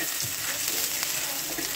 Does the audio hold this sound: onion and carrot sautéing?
yes